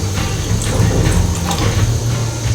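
Water pours steadily into a pot of village-style chicken curry, a continuous splashing gush that stays near and loud throughout with no talking.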